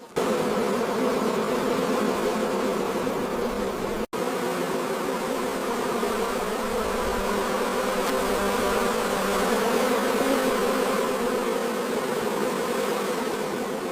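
Honey bees buzz steadily in a dense, droning swarm as they are removed from hive frames, loud and continuous, with a brief click partway through.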